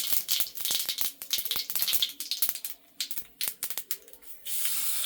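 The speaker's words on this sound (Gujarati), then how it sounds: "આપણે તેમાં આપણે થોડી થોડી રાઈ નાખી દઈશું ગેસ ધીમો કરી નાખશું" Mustard seeds crackle in hot oil on a low gas flame, a loud close spatter of sharp pops and sizzling hiss that comes in bursts and then settles into a steady fry, with no voices.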